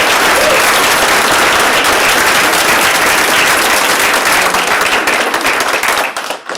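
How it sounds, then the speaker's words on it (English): Loud, dense applause at a nursing pinning ceremony for graduates, a crowd clapping hard and steadily before tapering off and stopping at the end. "And they deserve a round of applause."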